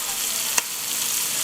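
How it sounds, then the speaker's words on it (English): Bay leaves dropped into a veal braise sizzling in a Dutch oven, a dense steady frying hiss with one brief sharp tick as something lands, close and even throughout. "And we're going to throw in the 2 bay leaves as well."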